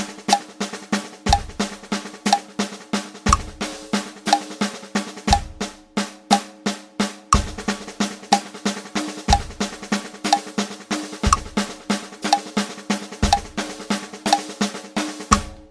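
A rhythm exercise is played in groups of nine with accented beats: a steady stream of sharp, even percussive hits with a louder low accent every ninth note, close and clear with no talking.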